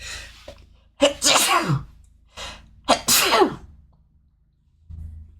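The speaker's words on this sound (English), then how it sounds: "And now I'm going to sneeze." Two loud sneezes burst out close by, each with a short sharp intake before it, separated by a brief pause, followed by a faint low sound.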